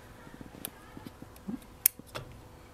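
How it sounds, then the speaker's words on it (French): Small scissors snip the thin, weak branches of a bonsai being repotted, giving a few faint, sparse clicks and cuts against a quiet room. "Je coupe toutes les petites branches qui sont trop faibles et qui sont placées aux courbes."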